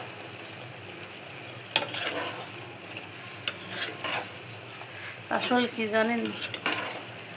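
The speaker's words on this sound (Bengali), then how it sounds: "এদিকে লাউটা কষিয়ে নিচ্ছি" Bottle gourd sautéing in a pan over a low gas flame, with a steady soft sizzle and occasional scraping stirs close by, while someone talks over the cooking toward the end.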